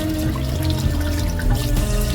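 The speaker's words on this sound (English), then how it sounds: "I'm gonna turn the water off." Tap water runs steadily into a sink during cleanup, a continuous splashing stream with small drips and clatters, close and fairly loud with no talking.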